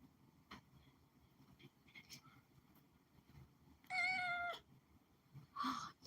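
A pet cat lets out two close, clear meows, the second shorter, over a faint background murmur with a few soft thumps beforehand.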